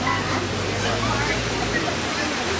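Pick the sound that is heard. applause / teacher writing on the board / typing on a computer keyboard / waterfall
waterfall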